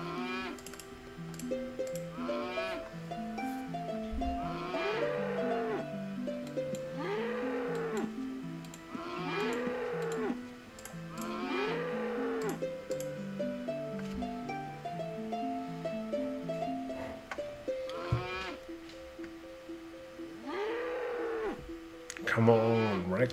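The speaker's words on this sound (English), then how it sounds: "This cow" Cattle mooing in the video game Ultima Online Second Age, several lowing calls repeating over a steady musical backdrop, moderately loud throughout.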